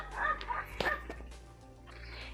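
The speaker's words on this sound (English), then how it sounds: "excuse my dogs, they are barking at my ducks" A couple of short dog barks close by, quick and sharp, as dogs bark at ducks, followed by fainter yips in the background.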